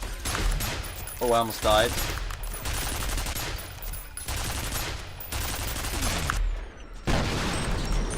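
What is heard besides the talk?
turret gunfire in the video game F.E.A.R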